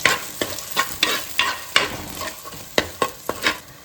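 A spice paste fries in oil in a pan, with rhythmic scraping strokes of a spoon stirring it about every half second over a soft, close sizzle.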